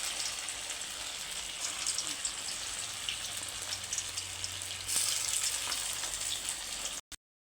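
Chops fry in white oil in a wok, giving a faint, continuous hissing sizzle that runs steadily for about seven seconds before cutting off.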